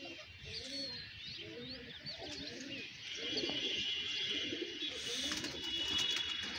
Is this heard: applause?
no